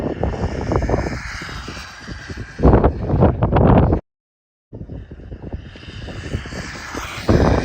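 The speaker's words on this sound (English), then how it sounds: "We're at full throttle on the Urgenex." A small RC airplane motor running at full throttle on a 3S 2,200 mAh LiPo during a speed test: a loud, steady whine that rises and falls as the plane passes, with wind buffeting. It cuts out briefly, then returns.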